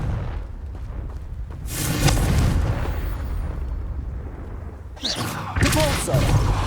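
Blasting-spell explosions from Confringo in Hogwarts Legacy, deep rumbling booms in two bursts with a short lull between them, loud and close, with a voice calling out over the blasts.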